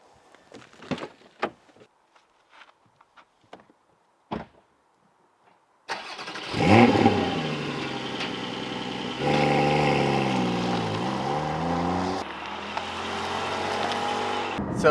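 A manual Porsche 718 GT4 starts up: a few scattered clicks and knocks, then the engine fires with a sharp rising flare, settles into a loud idle and revs, pitch climbing and dipping as it drives off.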